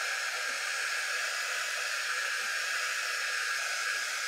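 Steady hair dryer blowing air to dry fresh paint on a craft project, a constant close whooshing hiss with no talking over it.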